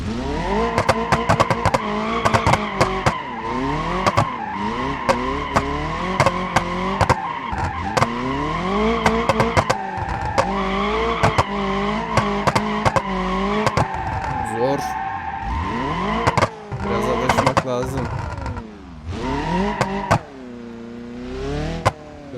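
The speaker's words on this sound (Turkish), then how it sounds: "burada bir dönme yapalım bu spin atar ya." In the BeamNG.drive driving game, a powerful modified car spins in a city street, its engine revving and rising and falling while tires squeal and skid continuously, loud and close, with a voice talking briefly over it.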